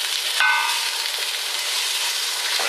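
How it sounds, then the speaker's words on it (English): Beef sizzles in a hot pan, a loud steady crackling hiss with a brief sharp flare near the start as the meat goes in, no talk over it. "we're just going to put our beef in like that, and it's going to sizzle straight away"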